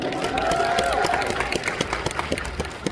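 Applause from the crowd at a T1 esports fan meeting is moderately loud and mixed with a lingering tone. It thins into scattered, distinct claps toward the end.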